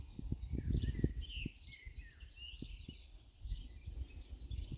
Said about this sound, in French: Le chant des oiseaux.